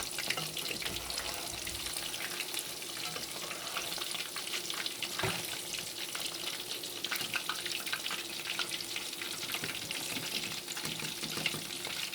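Prawns fry in a pan with a continuous hissing sizzle and occasional stirring clicks, steady and close throughout with no one talking.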